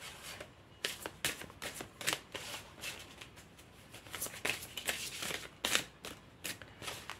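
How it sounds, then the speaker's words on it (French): Oracle cards are handled and shuffled while drawing from the deck, giving soft, quick papery flicks and riffles in irregular bursts, close and fairly quiet, with no talking. "Je vais tirer une autre carte parce que je sens que c'est pas fini."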